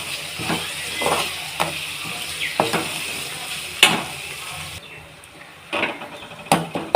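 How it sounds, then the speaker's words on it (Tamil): A masala paste with turmeric sautés in a pan for a prawn gravy, with a soft steady sizzle broken by repeated scraping strokes of a spoon and a few sharp clinks against the pan. "நல்லா வதங்கிக்கிட்டு இருக்கு."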